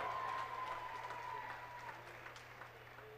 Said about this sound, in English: How about a round of applause for our gentleman there and a great swim